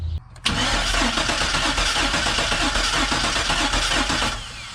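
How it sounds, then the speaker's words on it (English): Car engine being cranked over by the starter with a compression tester fitted in cylinder five and low compression, a loud, even rhythmic chugging of about a dozen compression strokes lasting several seconds before winding down. "I put the compression tester in cylinder number 5, crank the engine."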